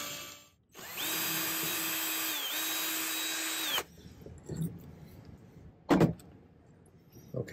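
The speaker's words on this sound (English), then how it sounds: "So I just used my drill." Power drill boring a hole in silver sheet for earring work, a steady motorized whine running about three seconds at close range, winding down before quieter handling clatter.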